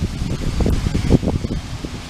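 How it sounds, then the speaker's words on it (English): Strong wind in a backyard after Hurricane Sandy, low gusty buffeting and rustling that rises and falls throughout a short stretch with no voices. "It's still really windy"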